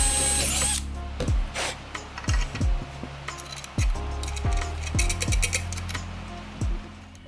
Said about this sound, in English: Ended up drilling down a 1/4 inch where all the copper pipes would go